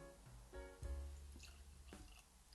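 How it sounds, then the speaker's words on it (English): Nikka Yoichi single malt whisky is poured into a glass, giving soft close liquid glugs and drips at a very low level, with no talk. "I'll get a nice little pour of this one going."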